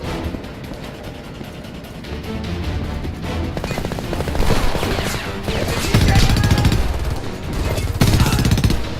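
Rapid automatic gunfire in the shooter game Homefront, sustained bursts of close, loud shots with heavy crashing impacts building toward the end.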